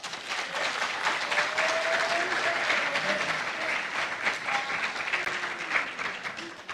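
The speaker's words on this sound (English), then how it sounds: "Please clap for them." An audience at a school quiz competition applauds steadily for several seconds, a dense, moderately distant wash of clapping with no clear voices.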